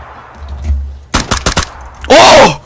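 Shotgun fire in the video game PlayerUnknown's Battlegrounds: a quick burst of four or five sharp, loud blasts, followed by a harsh louder noise, with voices faintly present.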